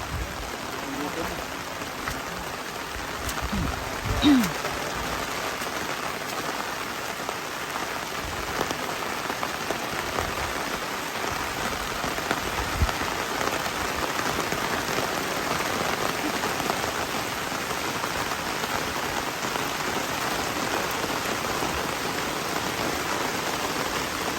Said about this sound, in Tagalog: Hala, lumalakas po na lumalakas ang ulan.